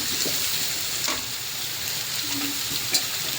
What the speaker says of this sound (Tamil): நம்ம வந்து கேபேஜ் வந்து ஆட் பண்ணிக்கலாம்